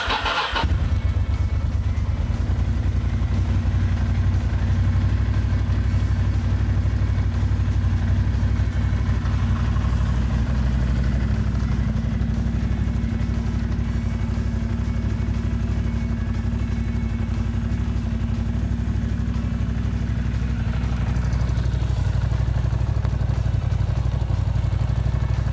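A Ducati Monster motorcycle engine cranks and fires, then settles into a steady, loud, close idle with a deep, even rumble that runs unbroken to the end.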